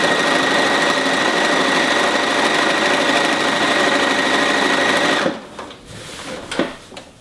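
A sewing machine runs steadily at a constant hum while stitching binding onto a quilt, loud and close for about five seconds before stopping, followed by soft handling noises.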